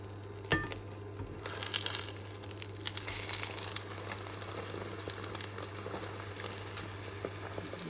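An omelette frying in a pan, with a steady, close sizzle and crackle, and a steady electrical hum underneath.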